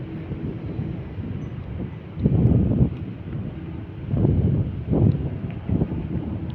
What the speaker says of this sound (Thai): ตอนรับลมหนาวพี่น้อง